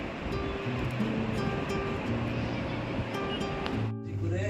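Sea waves at Puri heard from a hotel balcony, a steady broad surf roar with faint tonal hum, briefly dipping near the end.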